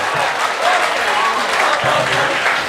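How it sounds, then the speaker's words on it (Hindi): Audience at an Urdu poetry mushaira applauds continuously, a dense, loud wash of hand claps from a crowd in a hall, with a few faint voices buried underneath. "पुरजोर तालियों से इस्तकबाल करें दोस्तों।"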